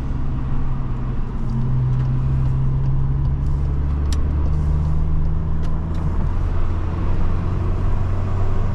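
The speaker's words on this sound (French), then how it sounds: "On va chauffer les cylindres." A Cupra car engine revs to warm up, a steady close low drone with a rising tone held for several seconds before dropping back, over a continuous rumble.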